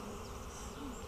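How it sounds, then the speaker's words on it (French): Honeybees in an open hive during a spring inspection make a steady, dense, close buzzing hum that fills the short moment without pause. "Beaucoup, beaucoup d'abeilles."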